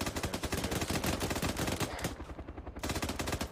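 Airsoft guns fire at a building during a milsim game, several shooters at once in a dense, continuous rattle of rapid shots that barely lets up, loud and close, with a brief thinning near the end.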